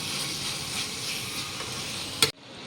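Soybean frying in masala in a hostel kitchen pan, a steady close sizzle with light stirring, ending in a sharp clack before it cuts off.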